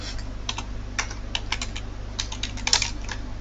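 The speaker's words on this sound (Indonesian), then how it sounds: "Sebagai contoh, kita ketikkan saja data penjualan" Typing on a computer keyboard while entering sales data into an Excel spreadsheet, a steady run of close, clicky keystrokes in bursts over a constant low hum, with no talking.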